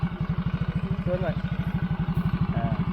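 A motorcycle engine fitted with a Takayama cylinder block idles unevenly, its rapid, close thumping pulse wavering slightly in pace, while someone briefly speaks over it.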